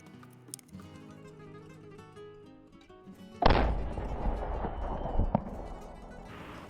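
A Sharps 1859 carbine fired on a range with hand-loaded cartridges, one loud close boom that cuts through quieter background sound, then a rumbling tail and another thump.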